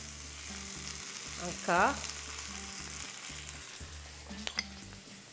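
Garlic and shrimp frying in olive oil in a pan, a constant close sizzle with stirring scrapes, while a voice speaks briefly.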